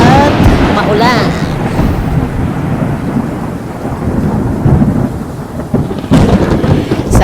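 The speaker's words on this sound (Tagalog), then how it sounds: "Napahanga lang talaga ako sa patak ng ulan." Heavy rain pours steadily while deep thunder rolls and rumbles, loud and close, with a low roaring wash filling the whole stretch and a brighter burst of downpour near the end.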